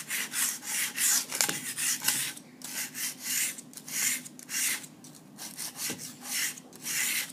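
A hand tool scrapes leftover clay off a work board in a series of short, rhythmic rasping strokes, fairly quiet and close by.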